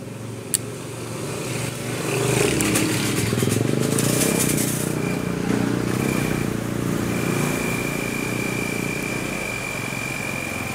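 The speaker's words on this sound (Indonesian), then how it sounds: "Oke, kita starter dulu untuk mesinnya." A Honda Vario CBS Techno scooter engine cranks and catches, then runs at a steady idle with a low rumble and a faint metallic whine, heard nearby with no talk.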